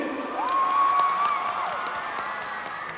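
Women in a live concert audience in Salalah clap and cheer, a continuous crowd roar of applause and shouts that swells early and then holds steady, with a brief whistle-like tone rising above it.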